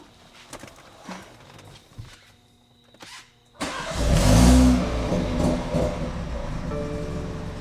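BMW G20 330i with a stage 2 tune starting after a battery replacement: quiet clicks and shuffling, then the engine cranks and catches loudly, revving up and settling into a strong idle nearby.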